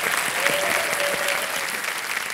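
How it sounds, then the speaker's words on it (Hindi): Studio audience on the Kaun Banega Crorepati game show set applauding in a steady, even burst of clapping, moderately loud and continuous, with a faint sustained tone running underneath. "और एक बार फिर तालियों के साथ इनका स्वागत किया जाए"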